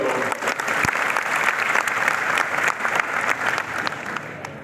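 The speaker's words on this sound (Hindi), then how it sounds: "आप जोरदार तालियों से स्वागत करो।" A crowd at an Adivasi community gathering breaks into loud, sustained applause, dense clapping filling the space evenly for several seconds before easing slightly at the end.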